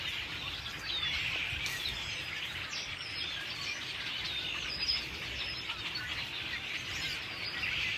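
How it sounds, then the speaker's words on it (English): Hundreds of migrating red-winged blackbirds call from a large stand of Phragmites reeds in Ontario, a dense, continuous chorus of overlapping chirps and whistles with no voices over it. "all the sounds here make it sound like red-winged blackbirds."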